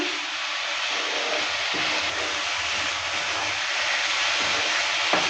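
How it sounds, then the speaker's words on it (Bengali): Spice paste for a light tengra fish curry with beans and potato fries in a pan, making a continuous, even hiss close by with no talking. "মশলাটাকে আমি ভালো করে কষিয়ে নিচ্ছি"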